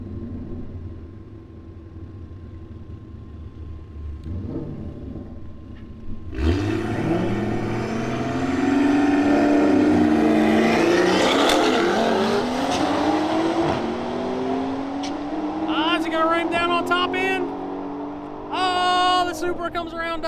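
A drop-top Terminator Cobra and a Toyota Supra launch in a street drag race, engines revving loudly with tire squeal before roaring away and fading, with an announcer's voice heard over the noise.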